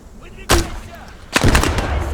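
Enemy machine gunner firing in a video game, two loud close bursts of gunfire with a short gap between them, the second a rattling volley that tails into ambient noise.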